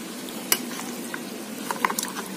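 Chicken noodles being stirred with chili sambal, a soft steady sizzle under scattered light clicks and scrapes of a utensil against the bowl, close and fairly quiet, with no talk.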